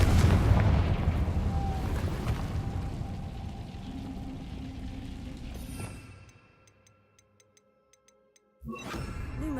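Fire spell blasts in Hogwarts Legacy give a loud, rumbling roar of explosions that fades to near silence with faint ticking, then a sharp burst returns at the end.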